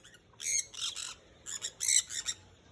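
Parrots squawk in a noisy flock near nesting young, a string of harsh, bright calls in bursts over about three seconds, moderately close, with no talking.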